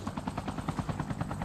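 Helicopter in Call of Duty Mobile Blackout battle royale, a steady rhythmic rotor chop pulsing loudly and continuously throughout, with no talk over it.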